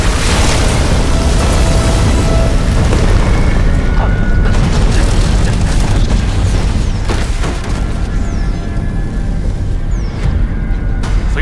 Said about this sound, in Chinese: 希望号准备升空。